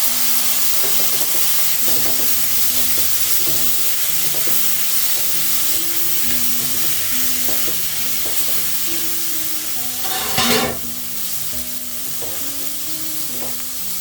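Tomatoes frying in a pan with turmeric for butter chicken, a steady close sizzle with repeated stirring scrapes and a brief louder hiss of steam near the end.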